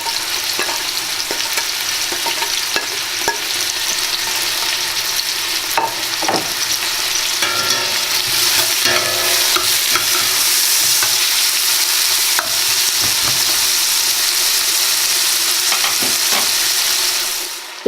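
Salted onions frying in a pan for vegetable bhaji, a continuous loud sizzle with occasional scrapes and stirring clatter, close and steady throughout without any talk.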